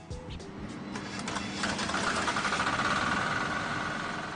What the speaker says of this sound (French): La preuve avec cette réplique de moteur diesel de voiture.